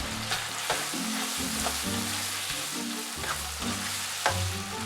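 Sugar and light soy sauce stirred into chicken in a frying pan for chicken and pineapple fried rice, a steady close sizzle broken by several scraping stirs of the spatula, with no talking.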